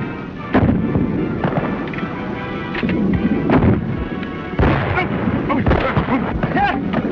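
Sharp gunshots in a 1931 western film, scattered through dense, rumbling old soundtrack noise at an irregular pace, several cracks standing out over the murky background.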